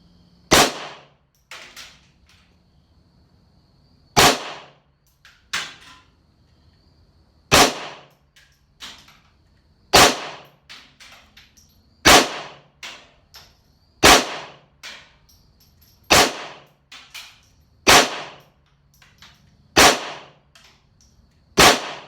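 Pistol shots at a shooting range, fired from a handgun fitted with a budget weapon light. Sharp, loud cracks come in a steady series at irregular intervals, each with a short echoing tail, and no talk is heard.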